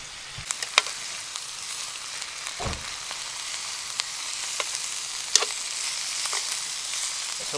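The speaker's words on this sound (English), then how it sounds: "Warm that sauce through." Peppercorn sauce sizzles in a pan on an outdoor camp stove, a steady soft frying hiss with scattered small pops and crackles throughout, fairly quiet and close.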